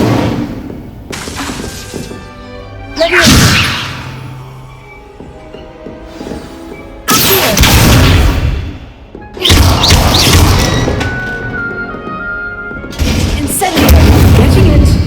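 A fire spell cast in the Hogwarts Legacy video game, with loud whooshing bursts of flame and booming impacts repeating every few seconds over a steady background of game ambience.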